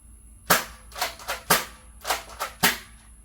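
A Nerf blaster fires a handful of sharp, close pops at uneven intervals, each shot followed by a short mechanical clack.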